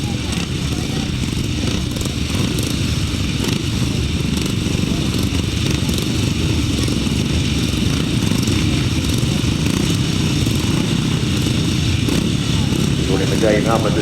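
375cc solo motorcycles race at a grasstrack meeting, their engines a continuous loud droning roar, with a commentator talking over the noise throughout.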